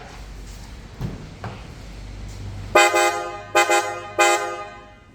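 A PIAA sports car horn fitted to a 2024 Toyota GR-S Hilux honks three times in short, loud blasts, the second and third briefer, after a stretch of low idling rumble and faint clunks.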